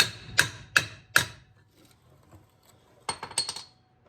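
A hammer taps a part into place while working on a 1968 Pontiac Firebird: three sharp metallic strikes at an even pace, a pause, then a quicker cluster of lighter clinking taps, close and clear.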